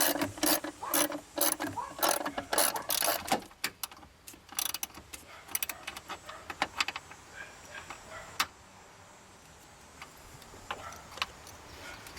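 A ratchet tightens the battery hold-down on a 2010 Lexus RX 450h hybrid, giving quick runs of sharp clicking pawl strokes that come in bursts, loudest early and then sparser and fainter, with no talking.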